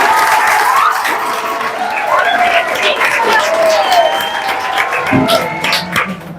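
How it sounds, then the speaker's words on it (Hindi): Audience applause and cheering at a children's creativity program in India, a steady wash of clapping from a crowd lasting throughout, with voices mixed in. "तालियां भाई तालियां"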